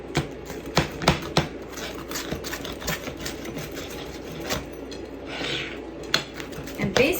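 A crispy chicken quesadilla is cut with crunchy crackling and scraping sounds, with irregular sharp snaps over a low kitchen background.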